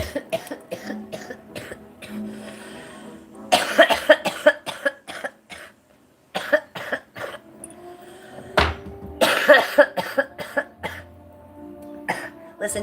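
Repeated harsh coughing fits after a cannabis dab, loud and close, with several bursts clustered together and short pauses between them.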